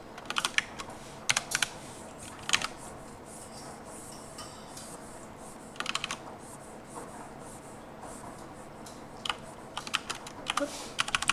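Computer keyboard clacks loudly in scattered bursts of rapid typing, separated by pauses, over a low steady room hum with no talking.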